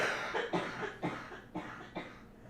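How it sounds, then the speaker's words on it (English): Several coughs come in a steady series, about one every half second, close and moderately loud, over a constant room hum with no talk in between. "I need to cough."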